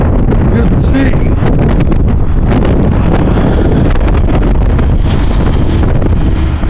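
Windstorm in Cleveland, Ohio blowing leaves around outdoors, a loud, constant roar of gusting wind buffeting the microphone, with a voice briefly audible under the noise.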